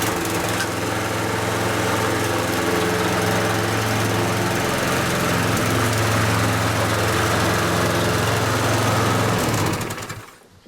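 A Viking lawn mower engine runs steadily at close range with a loud, constant drone, then cuts off abruptly just before the end.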